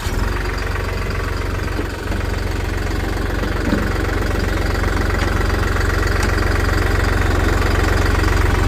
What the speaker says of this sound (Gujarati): આપણે ટ્રેક્ટર સ્ટાર્ટ કરી દઈએ.